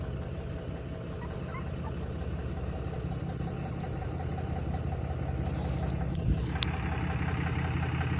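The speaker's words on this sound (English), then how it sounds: "I'm going to pause for 1 second because somebody's moving a truck." A truck engine idles as the vehicle is moved, a steady low rumble running through the whole stretch, moderately close, with a brief rise and a sharp click near the end; no one speaks.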